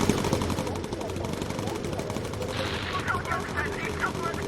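Machine gun fire from a bomber's turrets in the WWII aircraft game Bomber Crew, a dense continuous rattle of rapid bursts over engine drone, with voices talking over the battle.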